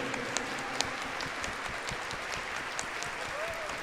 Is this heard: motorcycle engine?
no